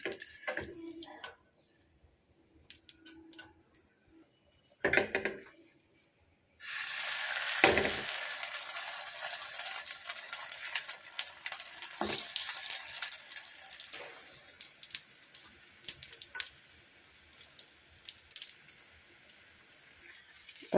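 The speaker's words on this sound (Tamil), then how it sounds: "இப்போ தோசைக்கல்லை வச்சு ப்ரே பண்ணி எடுத்துக்கலாம்" Brinjal slices fry on a hot dosa griddle: after a few quiet handling clicks and taps, a loud, steady sizzle bursts in and carries on continuously, dotted with small pops and clatters.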